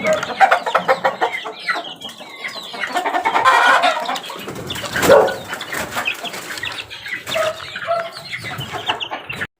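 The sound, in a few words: Asil Gold chicks in a bucket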